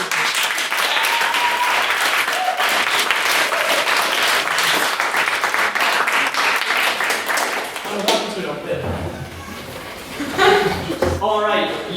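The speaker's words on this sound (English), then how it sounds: "A round of applause again for Mr. Liam Mackle" Debate audience applauds a maiden speech with loud, dense clapping that fills most of the stretch, then thins into scattered claps, laughter and murmuring voices near the end.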